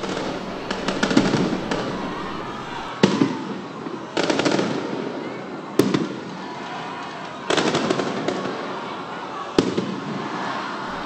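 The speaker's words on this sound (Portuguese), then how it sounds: "Os rojões." Firework rockets bang and crackle at a political rally for former Brazilian president Lula, with several sharp bursts spread across the stretch over a steady roar of crowd noise.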